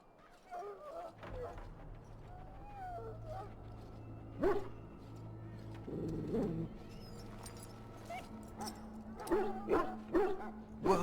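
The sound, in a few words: dog barking and whimpering in Dragon Age: Origins video game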